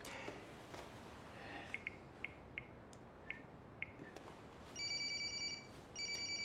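A mobile phone gives a few soft, spaced electronic beeps, then breaks into a louder sustained ringtone in two bursts with a short gap between them. No one speaks over it.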